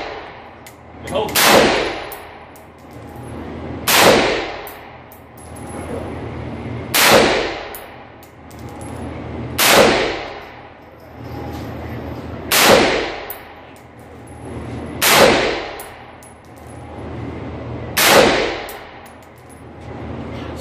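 A Ruger AR-556 rifle fires seven sharp, loud shots at regular intervals of roughly two and a half seconds, each crack ringing out briefly before a pause of quiet outdoor background.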